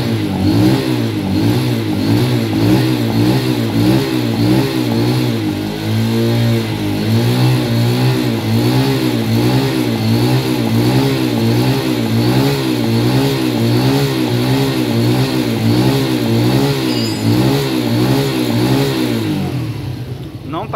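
A motorcycle engine revs repeatedly during a charging-output test for a suspected regulator or stator fault, loud and close, with rhythmic rising and falling throttle blips over a continuous running drone for about twenty seconds.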